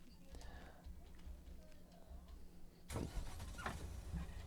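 Car engine in the video game Lake idles and then revs up with a sudden rise, moderately loud and close.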